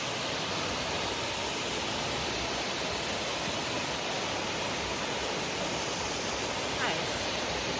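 Waterfall along the Foothills Trail: a steady, dense roar of rushing water that fills the whole clip at constant loudness, close and unbroken.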